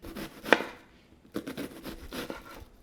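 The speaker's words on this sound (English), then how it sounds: "Okay, next I'm going to chop up a red onion" A knife chops half of a medium red onion into small, nearly minced dice on a board: one sharp, loud cut, then a run of softer, quicker chops, with no talking.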